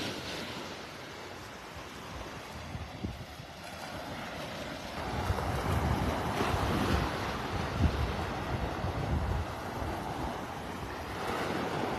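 Steady surf rolls onto the beach at Delnor-Wiggins park in North Naples, with a continuous wash of breaking waves and some wind rumble, growing slightly louder midway.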